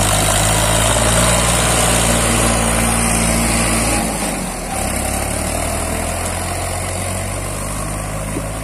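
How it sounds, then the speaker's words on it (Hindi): A two-wheel-drive New Holland 3602 tractor engine runs steadily in a sugarcane harvesting field, a loud continuous droning idle that dips briefly midway before resuming at an even level. "ये दो पहियों का ट्रैक्टर है, दो पहियों का ट्रैक्टर न्यू हॉलैंड 3602।"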